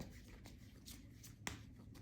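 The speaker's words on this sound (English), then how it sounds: "These cards are shuffling so smoothly." Deck of oracle cards shuffled by hand, with soft, quiet riffling and sliding strokes in a steady rhythm and one sharper snap near the end, close and without talk.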